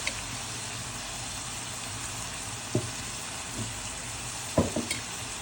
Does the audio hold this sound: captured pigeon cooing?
no